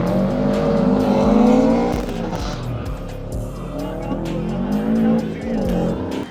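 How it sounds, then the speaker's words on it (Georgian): Two race cars, one a BMW Z4, drive toward the finish of a head-to-head race, their engines roaring loudly with rising and falling pitch and tire squeal, while a voice is faintly heard beneath. "მოემართებიან ფინიშისკენ ორივე ავტომობილი და გამარჯვებულია BMW Z4"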